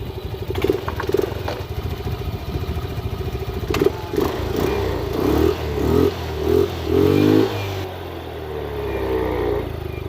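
A Yamaha Mio i125 motorcycle engine that had sat stored for five years, running after its throttle body was cleaned: close, steady idle with a clattery tone and a few short revs climbing in pitch, and no talk.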